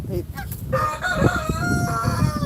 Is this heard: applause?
no